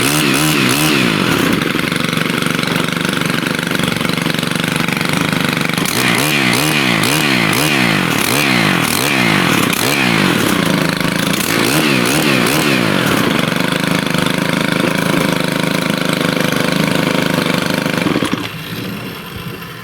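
A Stihl KM131R combi engine runs after a single pull start, a loud, close two-stroke buzz that revs up and down in repeated surges before cutting back near the end.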